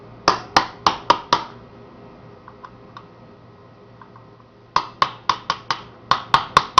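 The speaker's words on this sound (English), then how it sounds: "a hammer and a cold chisel will solve your problem with this" Hammer blows on a cold chisel driving against a tamperproof screw in wood: two quick bursts of five or six sharp metallic strikes, close and loud, separated by a few light taps.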